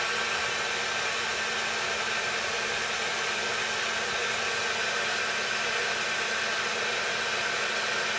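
A heat gun blasts continuously while melting a roll of solder, a loud, even roar with a faint hum and no voices.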